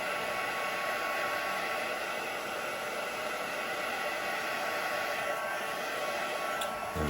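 Steady, even whoosh of a heat tool drying ink on a hand-painted tulip picture, running continuously and close up, with no speech.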